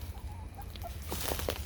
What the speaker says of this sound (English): Here's the chickens again, messing with the bean plant.